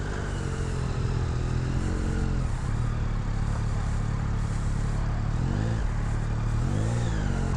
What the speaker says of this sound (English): Okay, so we're riding on the Tracer 9 GT Plus.